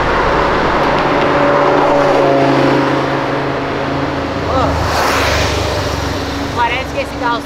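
Three Lamborghini supercars rev and accelerate together, a loud sustained engine roar dominating throughout with rising tones near the end.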